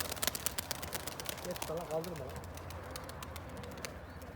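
Pigeon squabs coo in a low, wavering burble midway through, mixed with rustling, scattered clicks and a background voice in a loft.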